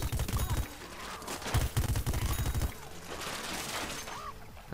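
Weapon fire in the shooter game Plants vs Zombies Garden Warfare, rapid rattling bursts of shots in the first half, then quieter game effects with a rising whistle near the end.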